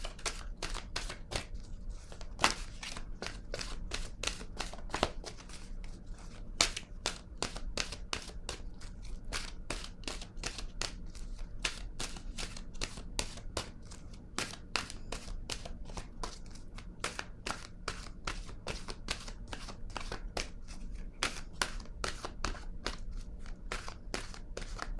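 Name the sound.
drawing and shuffling oracle cards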